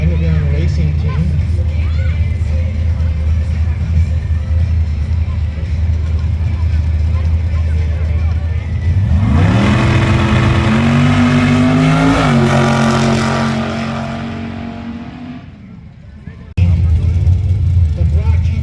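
A four-power dragster engine races at a winter sand drags event at Dome Valley Raceway, a loud rising roar that climbs in pitch over several seconds, then cuts off briefly, with a crowd and talk under it throughout.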